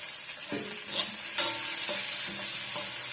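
Tomatoes are stirred into sautéing onion, ginger and garlic for a vegetarian plantain fish-style curry, a moderate sizzle broken by rhythmic stirring scrapes.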